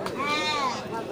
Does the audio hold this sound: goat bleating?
yes